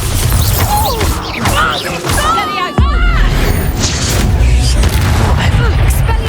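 A Bombarda spell blasts off in Hogwarts Legacy during a dragon arena fight: whooshing magical sweeps build into one loud, close boom partway through, surrounded by busy game effects and a talking voice.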